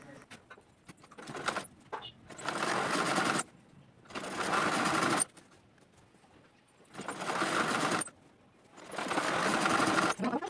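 A sewing machine stitches borders onto blouse sleeves in four steady bursts of rapid mechanical whirring, each a couple of seconds long, separated by quiet pauses with faint handling sounds, close by and with no talk.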